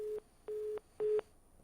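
Telephone busy tone after a call drops: three steady beeps, each roughly a quarter second long with even gaps, alone and fairly faint.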